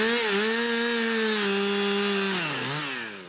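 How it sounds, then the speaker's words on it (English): A chainsaw cuts into hedge wood, its engine holding a steady loud buzzing drone, then dipping in pitch as the blade bites in and slowing near the end, close and alone. "bit of chainsaw work to keep them stock-proof"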